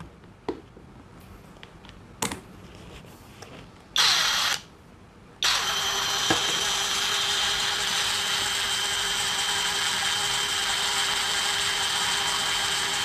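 Molar impact wrench running at low RPM, about 245, starts after a few clicks and handling knocks, then runs as a steady, even mechanical whir with a faint tone, continuing uninterrupted to the end.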